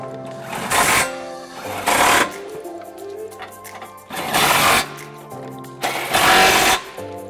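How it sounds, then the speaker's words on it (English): A 21mm swivel socket tightens trailer hitch bolts on a 2014 Jeep Grand Cherokee, heard as four loud bursts of power-tool rattling about a second long each, with quieter mechanical hum in between. "now using our 21mm swivel socket, we're going to go ahead and tighten it up"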